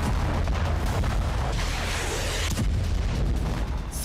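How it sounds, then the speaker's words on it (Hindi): Explosions from Israeli air strikes on Rafah and Khan Younis in Gaza rumble as a heavy, continuous low roar with muffled booming bursts, dense and loud throughout without speech. "गाजा में कई बार धमाके हुए"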